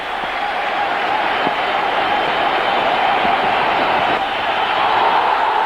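Stadium crowd at a Test cricket match in India cheers and applauds steadily as an Indian batsman closes on a record double century, a broad continuous roar that stays fairly level throughout.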